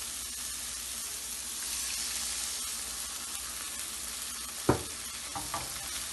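Eggs frying in an oiled pan for anda ghotala, a soft steady sizzle throughout with a sharp utensil clink and a couple of light stirring knocks toward the end.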